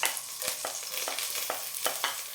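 Garlic and ginger hit smoking sesame oil with a bright, close sizzle, broken by several quick spatula taps and scrapes. The sizzle stays steady throughout, and no one talks.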